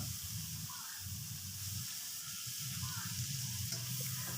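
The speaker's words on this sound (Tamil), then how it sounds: "வெங்காயத்தை நல்லா வதக்கி விட்டுக்குங்க" Chopped onions and garlic sizzle in a pan, a soft, steady frying hiss heard close with faint stirring and no talking.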